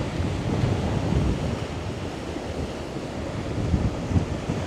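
Steady sea wind gusting along the coast at Khao Laem Ya National Park in Rayong, with waves and surf rumbling beneath in a continuous, fairly loud wash that swells slightly near the end.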